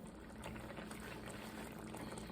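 Canned water pours into a cooking pot in a steady, rushing splash that runs unbroken for a couple of seconds, close and fairly quiet.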